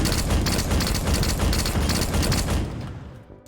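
Rapid, continuous battle rifle fire from Halo Infinite cracks out loud and dense for about two and a half seconds, then stops and fades away.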